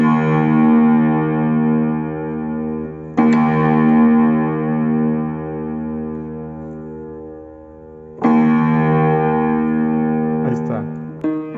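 Piano string being tuned to match its neighbouring string, long sustained struck tones that decay slowly, restruck three times, with beating between the two pitches settling.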